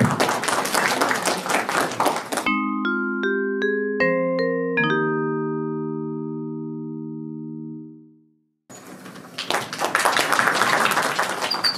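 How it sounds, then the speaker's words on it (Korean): An audience claps at an introductory training session run by a county in South Korea. Brisk applause at first gives way to a few ringing electronic chime tones that fade into silence, then loud clapping returns. "큰 박수 부탁드립니다."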